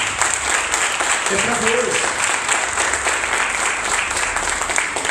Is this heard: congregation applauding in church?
yes